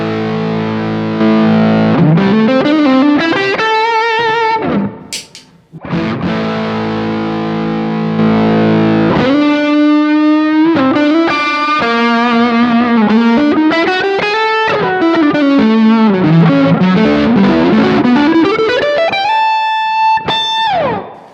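Overdriven electric guitar solo through a NUX Boostcore pedal used as a solo boost, with bends and fast runs, loud and sustained, boosted and distorted throughout, with a brief pause midway.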